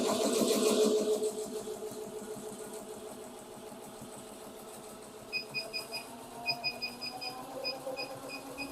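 An embroidery machine runs steadily, a fast mechanical stitching drone with a few short high beeps or ticks near the end, recorded close by with no talk.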